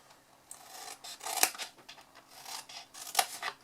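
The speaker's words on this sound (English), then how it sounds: "we're going to cut from the bottom up to the sides and cut wedges." Scissors cut through a paper gift bag in a string of crisp, close snips and rasps, with the sharpest clips standing out clearly against near silence.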